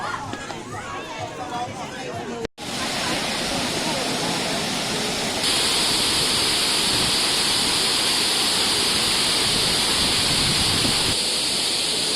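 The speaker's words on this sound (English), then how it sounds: "Beautiful waterfall, rocks." Waterfall at Shifen, Taiwan, pours with a steady, loud broadband rush that swells after a brief dropout and continues unbroken, while people chatter nearby.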